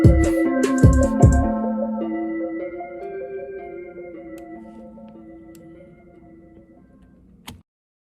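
A music beat outro made in FL Studio 21, opening with a few punchy low hits over sustained tonal layers that slowly fade out, ending with one short final accent.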